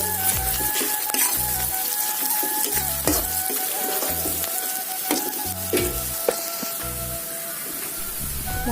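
Spices including cumin powder frying in a pan, a continuous loud sizzling hiss with scattered clicks and stirring scrapes, while background music plays underneath.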